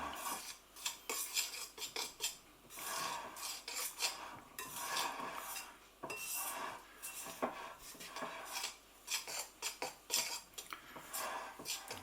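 Shortcrust pastry dough is cut in and stirred in a bowl with a utensil, making quick, irregular scraping and clicking strokes close by, fairly quiet and without talk.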